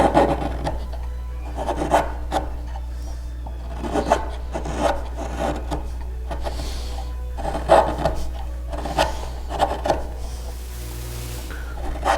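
A carving gouge pares end grain on a wooden tilt-top table part, giving repeated rasping, scraping strokes in an irregular rhythm, close and moderately loud over a steady low hum.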